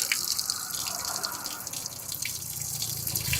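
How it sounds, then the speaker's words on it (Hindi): Water draining out of an Ashok Leyland H-series six-cylinder truck engine during repair, a steady trickling and splashing stream with faint drips, continuous and fairly close for a few seconds. "ये देखिए 22 चक्का गाड़ी है और इसमें अब निकलना शुरू हुआ पानी भाई साहब"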